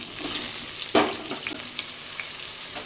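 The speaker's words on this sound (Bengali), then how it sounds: "এবার আমি বেগুনগুলো ভেজে নেব।" Eggplant slices frying in hot oil in a pan, a steady close sizzle with a brief sharper burst of crackle partway through and no talk.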